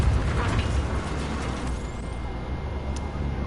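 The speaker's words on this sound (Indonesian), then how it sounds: "Meledak." Explosion in the video game Just Cause, heard as a dense, broadband low rumble with a booming roar that fades slowly over a few seconds, moderately loud with no talk over it.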